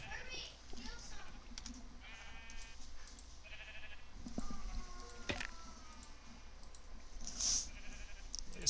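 Minecraft sheep bleat a few times in short, nasal calls over a steady game background, with a voice talking now and then and sharp clicks scattered through.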